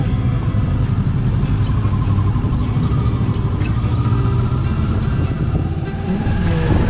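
A car engine labors steadily in first gear while climbing a hill on a road near Ban Rak Thai, Mae Hong Son, a constant loud low rumble heard from inside the vehicle with no talking.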